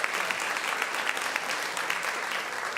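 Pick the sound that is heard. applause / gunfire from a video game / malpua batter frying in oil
applause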